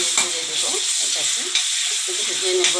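Green chilli paste frying in oil for an egg curry, a continuous crackling sizzle overlaid with the repeated scrape and clatter of a spoon stirring against the pan, close up, nobody speaking.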